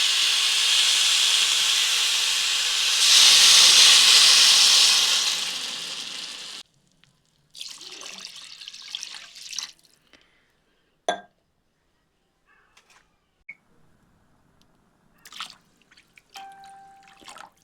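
Water poured into a pan of fried Gobindobhog rice hits with a loud, steady steaming hiss that swells and then cuts off, followed by scattered faint drips, taps and crackles at close range.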